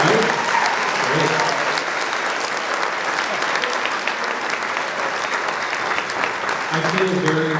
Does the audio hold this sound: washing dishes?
no